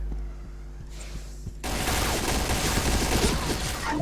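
Rapid bursts of video game gunfire crackle loudly after a quieter opening with faint tonal sounds, turning into a dense, sustained volley of shots.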